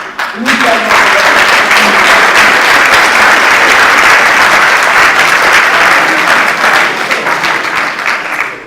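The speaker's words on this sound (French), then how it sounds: "je voudrais tout juste que toute cette salle applaudisse ces messieurs de Sewa ici présents" A hall audience at a Sewa launch event in Senegal applauds the Sewa guests in a sustained, dense burst of clapping, loud and close, with a voice briefly audible at the start.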